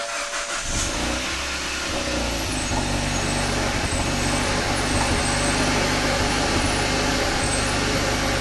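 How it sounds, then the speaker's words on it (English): Kia Ceed GT engine running just after a cold start with a misfire, a steady close, rough-edged drone with no talking. "It is still misfiring."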